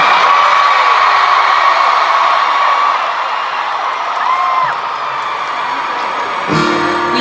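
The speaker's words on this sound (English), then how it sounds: "this is an unbelievable crowd" A large concert crowd at a show at Poptopia 2017 cheers and whoops in a loud, continuous roar that fills the whole stretch, with a few shouts standing out.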